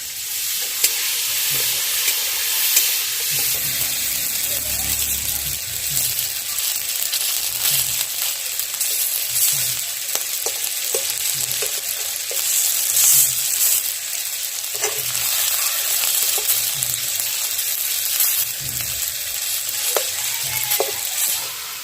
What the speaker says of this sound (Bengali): এদিকে পটল বড়া তৈরি করার জন্য এক পিঠ ভাজা হয়ে গেছে, আমি পরের পিঠটা উল্টে দেব